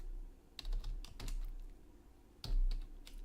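Keystrokes tapped on a computer keyboard in two short clusters separated by a pause, soft and close, with no one talking.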